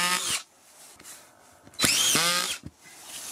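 A Parkside PTBSA 20-Li cordless drywall screwdriver drives screws into plasterboard under a rail: two loud, close whirring bursts, each ending abruptly, with quieter handling in between.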